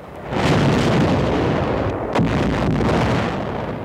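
Archive WWII footage of German 88mm guns firing at the beachhead landings, a loud sustained roar of blasts with one sharper crack midway, heavy and close throughout.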